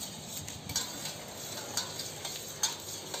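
A spoon stirs sugar into lemon sherbet in a glass, giving faint soft swishing with a few light clinks against the glass spaced about a second apart, close and quiet with no talking.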